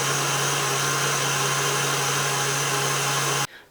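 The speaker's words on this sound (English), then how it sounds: "So I'm going to add them now and then whisk it all together again." A steady, loud electric whirring drone of eggs and melted chocolate being whisked together for lava cake batter, running continuously and cutting off abruptly near the end.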